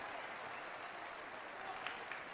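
Steady, continuous crowd applause spreads around the ground before kick-off at a Women's Super League football match between Liverpool and West Ham United at Prenton Park, a distant, even wash of clapping.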